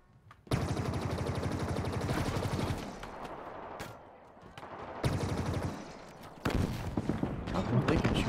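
Enemy gunfire in Halo Infinite co-op on Legendary, long sustained automatic bursts, loud and close, broken by short pauses, with a voice talking in between.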